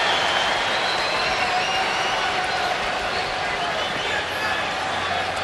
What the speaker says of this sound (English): cheering for Sammy